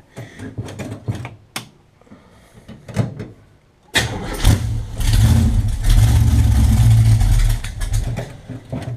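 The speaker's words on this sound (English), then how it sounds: "I'll fire it up real quick so y'all can hear how it runs" A cold T-bucket hot rod engine cranks over with a few sputters, then catches at about four seconds and settles into a loud, rumbling idle with a rough, lopey rhythm.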